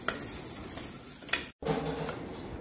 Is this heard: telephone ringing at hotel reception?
no